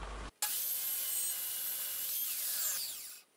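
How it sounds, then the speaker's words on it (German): A saw cuts a piece off a wooden board, making a continuous bright hissing rasp that begins sharply after a short pause and holds for about three seconds before stopping, with nobody speaking. "Ich schneide mir von dem Brett jetzt natürlich erstmal ein Stück ab."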